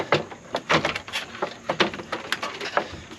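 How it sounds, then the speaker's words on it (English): Plastic clips crack and snap as a door trim panel comes off a 2004 Volkswagen New Beetle, a rapid series of close, sharp pops and rattles. "You pull out the bottom and you just lift off the top."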